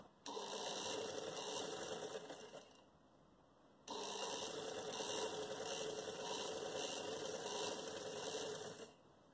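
Sewing machine stitching the centre curve of a gharara trouser: two runs of fast, steady whirring clatter separated by a short pause, close and alone.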